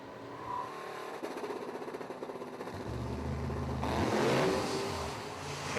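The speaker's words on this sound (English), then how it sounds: "John McDonough smokes the tires, ladies and gentlemen." A race car driven by John McDonough revs hard in a burnout, engine roaring and climbing in pitch with a rising rasp of tire smoke and broadband noise, loud and close with no talking.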